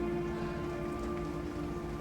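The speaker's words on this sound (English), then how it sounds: "The rain has once more set in" Rain sound effect, steady pattering of rain on a surface, even and continuous at a soft level with a faint tonal hum beneath it.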